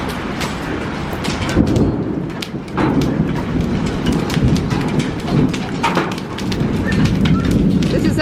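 A hail storm with thunder hammers down in a dense, loud clatter, with low rumbles rolling beneath and sharp impacts scattered throughout, while a person talks over it.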